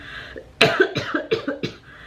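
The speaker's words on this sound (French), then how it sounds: "Attention, je vais tousser" A series of close coughs, one sharp burst followed by several quicker, weaker hacks in a rough rhythm, with no talking.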